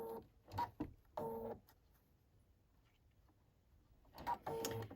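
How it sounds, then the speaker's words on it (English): A sewing machine edge-stitches the back pockets onto a pair of pants, running in two short quiet whirring bursts at the start and again near the end, separated by a near-silent pause. "So I'm going to put the back pockets on using the edge stitch."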